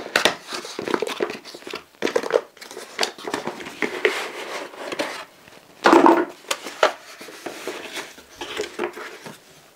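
A packaged surge protector (combination arrester) being unpacked, with close, busy crinkling and rustling of packaging and scattered plastic clicks and knocks, louder bursts around the middle.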